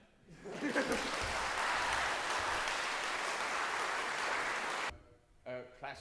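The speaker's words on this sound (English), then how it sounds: "Now you may clap." Audience applause at a classical lunchtime concert recital, a dense sustained clapping from a room full of listeners that rises quickly and stops abruptly, followed by a few stray sounds.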